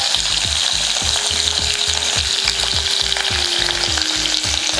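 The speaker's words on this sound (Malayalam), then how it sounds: "അതിൽ കറിവേപ്പില ഇട്ടു." Curry leaves and garlic fry in hot sesame oil while making Kerala mango pickle, giving a continuous, close, crackling sizzle that never lets up.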